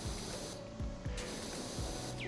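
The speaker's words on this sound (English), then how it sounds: "You're applying the soap and then you've got to still spray over it." A pressure washer sprays steadily in the video game Powerwash Simulator, with a continuous hissing jet and a few soft rhythmic clicks underneath. No voices are heard.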